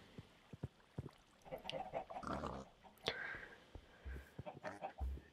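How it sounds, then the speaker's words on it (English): Minecraft pigs give a few short low grunts and oinks spaced across the clip, fairly faint, mixed with soft clicks and quiet background murmur. "And I've got some more pigs."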